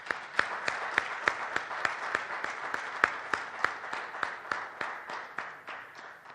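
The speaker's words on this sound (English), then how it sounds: "Round of applause, please." Sparse, steady clapping from a small audience at a Bahrain logistics event, individual claps distinct and evenly spaced, moderately quiet and without voices.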